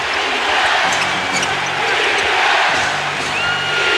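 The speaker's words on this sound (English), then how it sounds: "This crowd on its feet." A packed arena crowd at a 1989 NBA Finals game between the Lakers and Pistons roars on its feet in a one-point game under a minute to play, a dense, sustained wall of cheering with scattered whoops.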